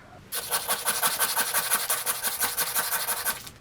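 Rapid back-and-forth rasping of sandpaper rubbed by hand, a continuous scratchy rhythm that starts abruptly and stops near the end.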